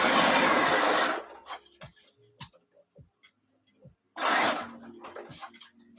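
A home sewing machine runs in a steady whir for about a second, then stops while faint clicks and handling noises follow, and the motor starts again for another short burst before more scattered ticks.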